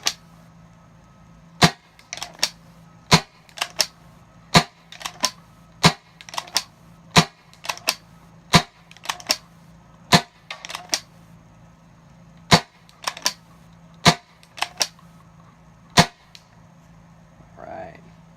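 Crosman 12-gram CO2 air pistol fired repeatedly through a chronograph, sharp loud cracks in irregular succession, some in quick pairs, with gaps between strings of shots.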